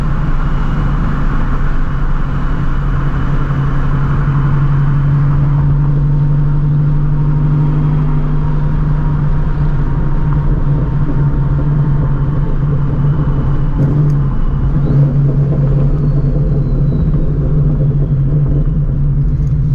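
A straight-piped Ford Shelby GT350 V8 drones loudly and steadily while cruising on the road, a deep constant exhaust rumble with slight swells in revs and no talking.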